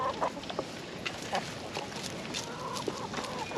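Broody backyard hens clucking softly in a nesting box with eggs, short scattered clucks over a busy rustling background.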